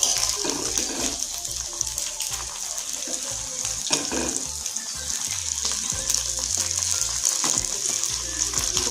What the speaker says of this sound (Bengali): এগুলোকে ভেজে নিচ্ছি